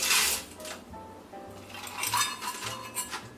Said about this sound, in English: next I'm adding 1 cup of frozen corn